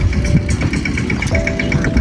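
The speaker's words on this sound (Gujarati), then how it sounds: "ટ્રેક્ટર જાય છે આપણા ભીતાશ્રી લઈને જોઈશું ટ્રેક્ટર" A farm tractor's engine runs steadily and close by, a dense low rumble with a faint whine riding on top, holding even loudness through the whole stretch.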